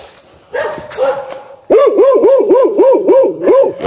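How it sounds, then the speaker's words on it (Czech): A big dog barks in a fast, steady series of loud, close barks, starting with a few softer yips before breaking into continuous barking, heard outdoors on a walk. "Hele, velký psi mi nemusí,"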